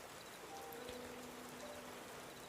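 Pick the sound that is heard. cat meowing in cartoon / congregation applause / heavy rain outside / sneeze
heavy rain outside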